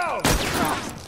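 A single sharp rifle shot cracks out in The Last of Us Remastered, loud and close, with a short echoing tail and faint game sounds before it.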